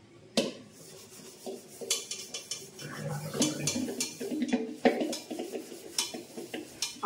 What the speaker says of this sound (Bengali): এবার কড়াটাকে মেজে তুলে দিই।